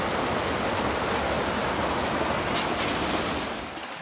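High-flowing Oak Creek in December flood stage, a dense continuous rush of water heard close and loud, steady for several seconds with no speech.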